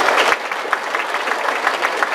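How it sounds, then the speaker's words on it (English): Audience at a work-life balance talk clapping their hands fast and loud, a dense, continuous burst of applause filling the room. "clap your hands really fast and really loud for 10 seconds"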